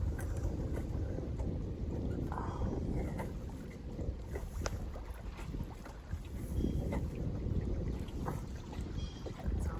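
A small wooden micro cruiser sailboat moves along a river, with continuous water wash against the hull and wind buffeting the microphone throughout, fairly loud and steady.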